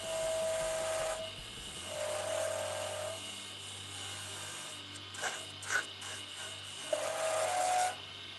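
Skew chisel cutting wood on a lathe, a faint, steady whirring hum with intermittent scraping bursts as the blade meets the turning workpiece.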